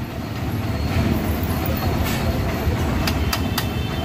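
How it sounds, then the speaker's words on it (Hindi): A 2014 Hero Karizma R motorcycle engine idles with a steady, dense drone that runs without pause, with a few faint higher clicks near the end and no talking. "ये देखो इंजन का साउंड"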